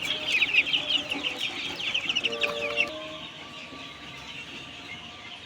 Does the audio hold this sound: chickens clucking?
yes